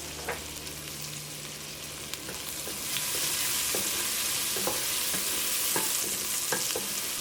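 Chopped ginger and garlic frying in ghee, a continuous close sizzle that grows louder partway through, with light stirring taps, no talking.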